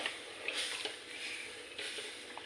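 Semolina kheer being stirred in a pan after milk is poured in, a soft wet sizzle with gentle scraping strokes of the spoon repeating at an unhurried pace, close and fairly quiet.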